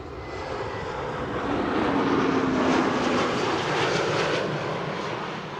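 A Vueling airliner arriving from Barcelona at Amsterdam Schiphol, its engines a broad continuous roar that swells slightly and holds steady, fairly close and loud with no talk.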